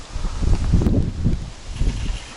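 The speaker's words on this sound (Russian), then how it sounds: "Ветер сильный. Прям штормит." Strong wind buffets and rumbles in gusts while feeder fishing, rising and falling close to the microphone, with rustling underneath and no voices.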